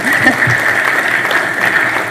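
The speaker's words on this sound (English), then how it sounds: "you can clap." An audience claps steadily through a short stretch at a talk about Kenya, an even wash of hands with no speech over it.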